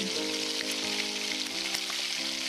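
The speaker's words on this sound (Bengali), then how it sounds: "আদা রসুন বাটা দিয়ে এই মশলাটাকে আমি আরো 2 থেকে 3 মিনিট কষিয়ে নিচ্ছি" Masala with ginger garlic paste frying steadily in a pan for crab curry, a dense continuous sizzle with a low hum running beneath and a few faint taps, close and loud throughout.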